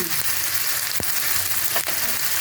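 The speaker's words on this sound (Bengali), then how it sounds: "ছিটবে কিন্তু আর দেবো কাঁচা লঙ্কা কুচানো দিয়ে দেবো" Chopped green chillies and coconut paste hit hot oil in a pan, giving a steady close sizzle with a few sharp pops and spits.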